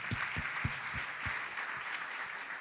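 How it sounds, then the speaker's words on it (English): Conference audience applause fills the room, a steady wash of clapping with a few louder nearby claps standing out, continuous for a couple of seconds without talk. "A final applause."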